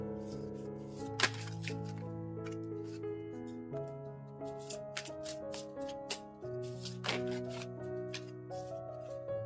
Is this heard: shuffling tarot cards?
yes